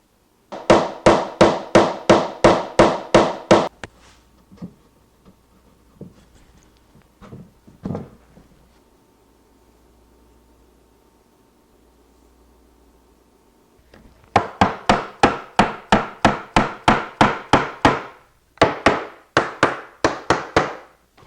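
Tapping domino tenons into joints during a woodworking glue-up for a floating hall table: two long bursts of rapid, evenly spaced sharp knocks, close and loud, separated by a quieter stretch of faint handling sounds and a few isolated taps.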